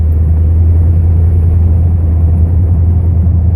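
A car rolls slowly at about 40 along a potholed road, a loud, steady low rumble filling the cabin without a break.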